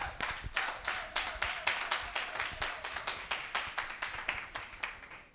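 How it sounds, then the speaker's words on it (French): An audience at a voice coaching competition final applauds the coach with rhythmic, evenly spaced clapping, a steady beat of hands close by and fairly quiet, with no speech over it. "je vous prie d'applaudir, Monsieur Dimitri Agossadou"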